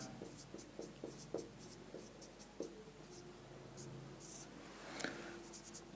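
Soft scratching of a pen writing on paper while working a Class 7 maths problem, quiet intermittent strokes and taps close by with faint background hiss.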